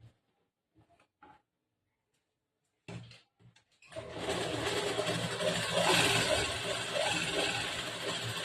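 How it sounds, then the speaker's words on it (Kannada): Sewing machine running steadily while stitching a blouse shoulder seam, a continuous mechanical whir that starts after a few soft handling taps and holds at a fairly loud, even level. "ಈ ತರ ನಾನು ಅದೇ ತರನೇ ಸೇಮ್ ಇವಾಗ ಹಂಗೆ ಸ್ಟಿಚ್ ಮಾಡಿದ್ದೀನಿ"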